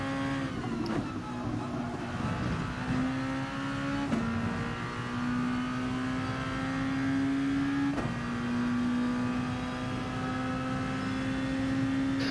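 Racing car on the Monza circuit at full throttle through the corners: a loud, sustained engine whine rising in pitch through each gear, with sharp upshifts at roughly four-second intervals, heard from the cockpit.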